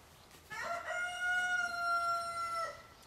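Rooster crowing among chickens, one long clear cock-a-doodle-doo call of about two seconds, fairly close and heard alone.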